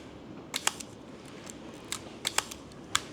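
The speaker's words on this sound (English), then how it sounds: "They use the Leica cloth shutter system." A Nikon SP rangefinder with a cloth focal-plane shutter firing repeatedly, producing soft, quiet clicks in small pairs and singles spaced across the moment, close up against a faint background hiss.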